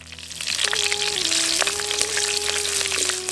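Green chillies drop into hot oil with fennel seeds in a hot pan, a loud close, continuous crackling sizzle with a faint steady tone running underneath.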